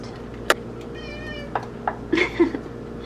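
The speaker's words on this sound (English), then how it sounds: "My cat heard me open a can and thought that it was more food for her" Cat meowing for food in a kitchen, a handful of short insistent meows in quick succession, close and clear over a quiet background.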